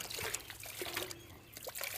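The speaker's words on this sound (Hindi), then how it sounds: "मोल्ड पे डालेंगे पानी।" Water trickles and pours over a kulfi popsicle mould, a short, soft, close splashing dribble.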